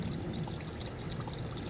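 Icy stream drinking water pours steadily into a small bottle in a forest in Serbia, a close, continuous splashing gush with no pauses and no talking.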